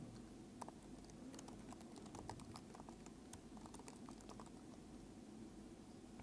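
Steady, fast typing on a computer keyboard, with dense irregular key clicks over several seconds, close and quiet, and no voices.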